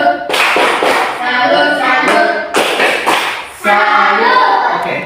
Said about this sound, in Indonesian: Oke, tepuk tangan dulu kalian semua